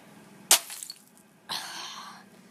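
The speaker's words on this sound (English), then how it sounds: "It's all breaking up now, but these massive shards of ice" Slab of ice breaking apart into large glassy shards, two sharp cracking bursts about a second apart, the first a bright snap with a short scatter of tinkling pieces, the second a longer crumbling break, close and fairly loud in cold outdoor quiet.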